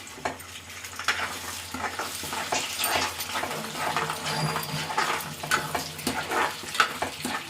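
Goat brain and two eggs being stirred in a hot frying pan, with steady sizzling and repeated scraping of the spoon against the pan throughout, close and fairly loud, no talking.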